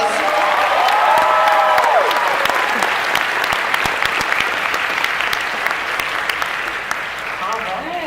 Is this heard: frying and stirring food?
no